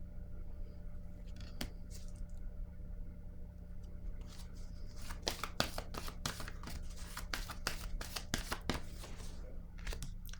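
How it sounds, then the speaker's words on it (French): A card is laid down on a table during a card reading, heard as soft taps, slides and light handling clicks clustered in the second half, close and fairly quiet. "Je vais déposer une autre carte"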